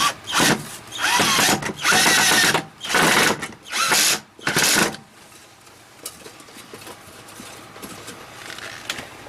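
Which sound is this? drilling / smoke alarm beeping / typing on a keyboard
drilling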